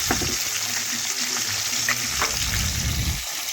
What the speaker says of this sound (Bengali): আরও এক পাশ লাল লাল ভেজে নেওয়া পর্যন্ত বেশ কিছুক্ষণ অপেক্ষা করে নিচ্ছি।